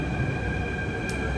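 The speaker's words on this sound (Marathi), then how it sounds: "कडक अंडरग्राउंड मेट्रो आहे." An underground metro train gives a steady, loud, even rumble with a faint electrical whine, unbroken from start to finish.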